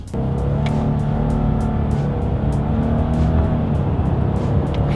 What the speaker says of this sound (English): let's go ahead and test out the paddle shifters and see how quickly they react for us here